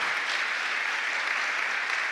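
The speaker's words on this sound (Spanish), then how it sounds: "Dale un aplauso al Espíritu Santo que está en este lugar." A congregation applauds during a church service, a dense, even wash of clapping that holds steady throughout without a break.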